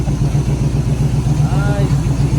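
A 1978 Chevrolet C10 truck engine idles with a slight misfire, a low, loud, steady rhythmic chugging pulse with an occasional stumble, close by.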